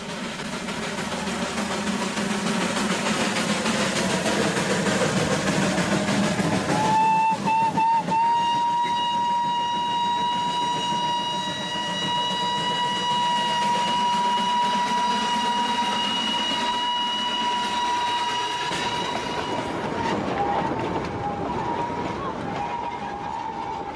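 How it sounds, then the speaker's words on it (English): A steam locomotive, the same engine one driver was assigned for life, runs along the line and gives a long, steady whistle blast lasting many seconds over the chugging rumble of the train. "everyone along the way knows it's him by the sound of his whistle"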